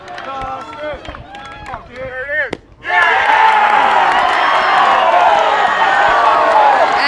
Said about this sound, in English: The CV crowd is mad at that call.